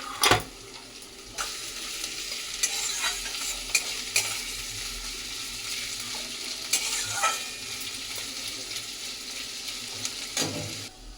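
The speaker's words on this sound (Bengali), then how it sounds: "পেঁয়াজটা দিয়ে আমরা ভেজে নেব।" Sliced onions frying in hot oil for mutton beresta, a steady close sizzle with scattered spoon clinks and stirring scrapes against the pan throughout.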